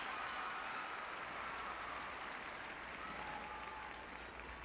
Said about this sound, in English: and a nice reception here for Mira Leung.